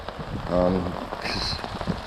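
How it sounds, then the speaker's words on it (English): Rain falling steadily on a campsite, a soft even patter across the whole stretch with a faint brief tone partway through, no talking. "It is definitely raining, and it's gonna rain all day."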